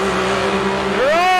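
Can-Am four-seater UTV side-by-sides race at Chicopee, an engine droning steadily and then revving up sharply, loud and near.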